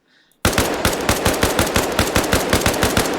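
Rapid burst of rifle fire in the video game Arma Reforger, starting abruptly after a near-silent moment, with evenly spaced loud shots continuing for about three seconds.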